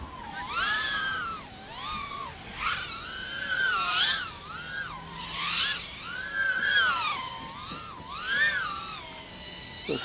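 FPV drone on EMAX Avan Rush 2.5-inch props whines loudly in the air, its high buzzing pitch swooping up and down in repeated waves as the throttle rises and falls, heard alone.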